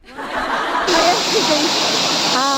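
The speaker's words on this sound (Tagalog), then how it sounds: "So, sample nga ng talon" Daranak Falls in Tanay, Rizal roars as a loud, continuous rush of falling water close by, while people chatter and laugh over it.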